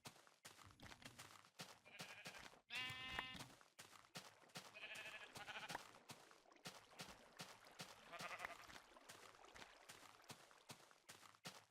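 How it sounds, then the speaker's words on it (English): Sheep in the video game Minecraft bleat several times over a busy game soundscape with clicks and steps, the bleats short and nasal and fairly close. "Oh, hey, more sheep."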